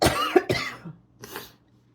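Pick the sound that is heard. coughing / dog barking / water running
coughing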